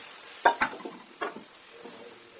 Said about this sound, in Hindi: मुसलसल चम्मच चलाते हुए आपने इसको पकाना है